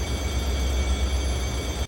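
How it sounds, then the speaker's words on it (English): A train rolls along steadily in the video game The Bouncer, a dense, continuous rumble with clattering noise that stays constant and then cuts off abruptly. "The train's moving!"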